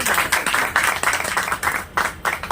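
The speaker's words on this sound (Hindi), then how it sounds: "एक बार तालियां बजा दीजिए।" An audience at an RCM partner business meeting in India claps, loud and close, with brisk overlapping claps in quick pulses for a couple of seconds.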